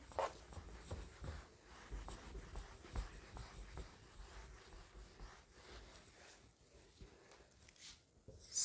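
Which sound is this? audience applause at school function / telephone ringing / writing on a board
writing on a board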